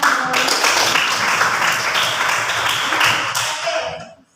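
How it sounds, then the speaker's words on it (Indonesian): Hands clapping in a classroom, a group of students applauding together in a fast, loud patter that holds steady and then stops abruptly. "Tepuk tangan."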